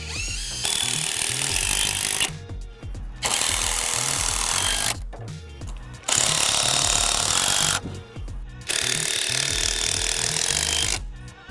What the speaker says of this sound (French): on va visser les bras de force sur les poteaux